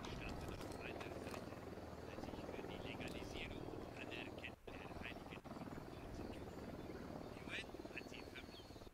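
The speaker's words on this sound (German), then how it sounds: "Ich höre einen Helikopter, das glaubt man gar nicht." Helicopter rotor drone in the Ghost Recon Wildlands video game, a steady continuous hum running under chatter and game sounds for the whole stretch.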